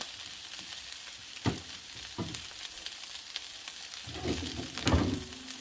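Butter sizzles faintly on a Blackstone griddle under stuffed hashbrowns, a soft steady frying hiss broken by a few quiet scrapes and taps, with no one talking.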